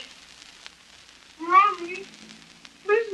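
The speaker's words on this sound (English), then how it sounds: "Mama, get this kitty some milk. It's hungry." A hungry kitten gives two thin, rising meows a moment apart, fairly close and clear over a quiet background in an old radio drama.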